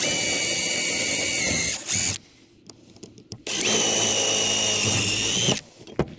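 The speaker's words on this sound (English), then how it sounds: "we're just going to drill a little pilot hole through it with a smaller drill bit first" A power drill with a small bit whines loudly in two bursts, drilling pilot holes through a metal ammo can, stopping briefly in between, with small clicks and knocks during the pause.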